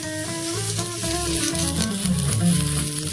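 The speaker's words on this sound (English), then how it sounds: "Hear it sizzling and smoking." Red wine chicken skewers hiss and crackle on a blistering hot griddle, a close and steady frying sizzle heard alongside a sustained musical tone with shifting notes.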